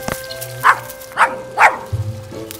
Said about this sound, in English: It sounds like dogs barking.